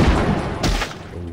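A sniper rifle fires once in a hunting video game, a single loud, close crack in the middle of a brief stretch of low background noise.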